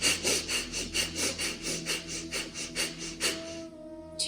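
Rhythmic, rasping forced nasal inhales from Kundalini yoga breathing repeat steadily, about a dozen harsh rushing pulses, close and fairly loud, ending with a brief tonal squeak.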